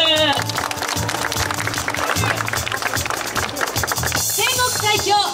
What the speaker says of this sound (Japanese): 皆様拍手